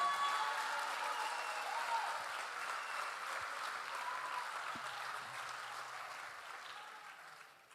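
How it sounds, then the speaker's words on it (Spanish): A church congregation applauds during a sermon, a sustained wash of clapping that slowly fades toward the end. "Dale el aplauso al Señor."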